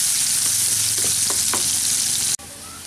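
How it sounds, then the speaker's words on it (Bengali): Onion frying in oil for a Bengali curry: a loud, continuous, close sizzle with a few brief crackles and a sudden drop near the end before the sizzle resumes. "পেঁয়াজটা আমাদের হালকা করে ভাজা হয়ে গেছে"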